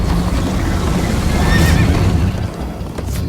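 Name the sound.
horse neighing, video game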